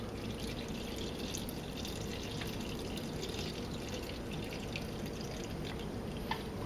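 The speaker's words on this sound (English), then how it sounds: "I'm going to pour my fixer in" Photographic fixer is poured into a film developing tank, giving a steady close trickle of liquid with small drip-like ticks and no talking.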